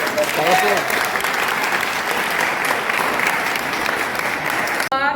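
A classroom of students applauds a correct answer to a quiz question on the Indian Constitution, steady dense clapping that fills the whole stretch at close range, ending in a sharp cutoff.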